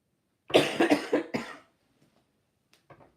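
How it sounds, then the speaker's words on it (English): A person coughing during a live tarot reading, a quick cluster of four or five close, loud coughs followed by silence and a faint brief throat sound near the end. "my apologies for coughing, everybody."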